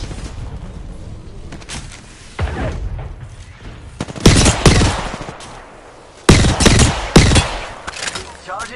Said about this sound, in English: Taking shots.